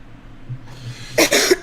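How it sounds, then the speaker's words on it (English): A burst of coughing near the end, a few harsh broadband hacks in quick succession after a quiet stretch. "sorry I keep coughing"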